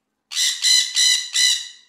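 A parrot gives four harsh, rapid squawks in quick succession, loud and close, with no other sound around them.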